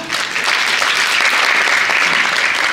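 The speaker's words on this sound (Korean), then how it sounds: "경기도 경제과학진흥원 과학기술지원팀 김중태 과장님 큰 박수 부탁드리겠습니다" Loud, dense applause from an audience at a business support briefing as an official is welcomed to the stage, steady and close throughout with no voices.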